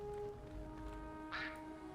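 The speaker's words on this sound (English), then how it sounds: "look at these ducks. They're so cute." Ducks quacking in the World of Warcraft video game, a short burst of quacks near the end over a steady game background with soft music.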